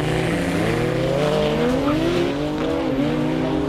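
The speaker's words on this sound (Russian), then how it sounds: "Да, Porsche берет старт однозначно." A Porsche launches hard off the line at a drag race start. Its loud, continuous engine roar climbs steadily in pitch as it revs up, with tire squeal mixed into the roar. No voices are heard.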